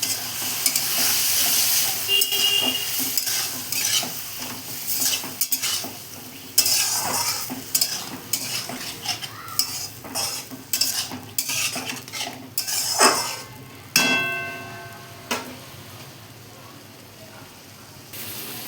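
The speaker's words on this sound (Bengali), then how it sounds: "এবার এই মশলাগুলোকে আমি খুব সুন্দর করে কষিয়ে নেব।" Spice paste with chilli powder, garlic paste and ginger paste scraped and stirred in a hot pan, with repeated metallic spatula clinks over a steady sizzle, close and fairly loud with sharp taps throughout.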